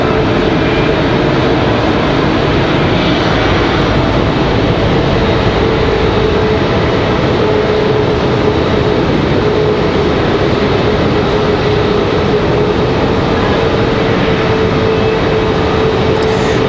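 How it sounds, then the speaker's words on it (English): A JetBlue airliner departs Raleigh-Durham International, a loud, sustained jet engine roar with a steady whining tone carrying through the whole stretch, no talking heard. "So JetBlue 2283 headed out of here."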